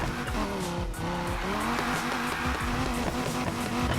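A rear-wheel-drive car in a racing video game slides with continuous tire squeal over a revving engine, loud and sustained for the whole stretch, with no talking.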